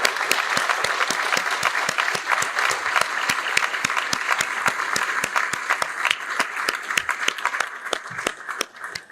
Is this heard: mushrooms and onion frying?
no